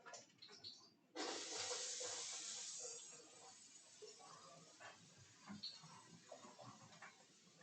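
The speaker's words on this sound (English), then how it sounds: "We'll get a sizzle now." A sudden loud sizzle as onions hit a hot pan, hissing strongly at first then settling into a steady, quieter crackle.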